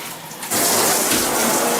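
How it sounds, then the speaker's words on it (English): Water bursts from a handheld shower head sprayer after a brief quiet moment, then sprays in a strong, steady hiss that continues to the end. "this button right here will divert it over to this sprayer on the end of it"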